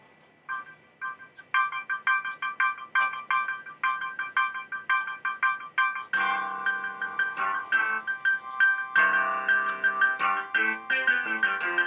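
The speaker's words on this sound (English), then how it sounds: "Let's go MIDI, even though it's just wavetable synthesis software." Classic MIDI piece rendered by wavetable synthesis software on a 2000 Compaq iPaq legacy-free desktop PC: bright, plinky synthesized notes in quick rhythmic phrases, later swelling into fuller sustained chords, clean and without voices.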